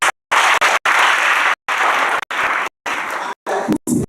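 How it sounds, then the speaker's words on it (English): Applause for students at a school awards ceremony, loud clapping from the audience heard in choppy bursts cut by repeated abrupt silences. "I'm a round of applause for my students"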